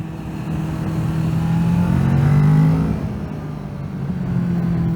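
A Kawasaki Z650 motorcycle engine drones steadily on a test ride, its pitch climbing and swelling louder midway before easing back to a smoother hum, with no voices.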